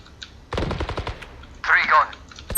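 Rapid burst of automatic gunfire from the video game Valorant, a quick rhythmic string of shots followed by a second louder sound, with a voice speaking nearby.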